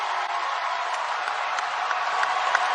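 A basketball arena crowd at a Stanford vs Washington game roars in a steady, dense wash of cheering and clapping, loud and continuous.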